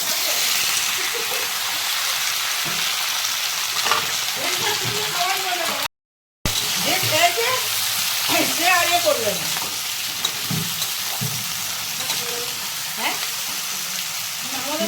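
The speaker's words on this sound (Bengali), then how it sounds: "এবার আমি ভাতটা খাবো সেই জন্য শিম বেগুন আলু নিয়েছি আমি দিয়ে দিচ্ছি" Beans, eggplant and potatoes fry loudly in a pan for a dried lotiya fish dish, a continuous crackling sizzle under intermittent talking, broken by a short gap of silence midway.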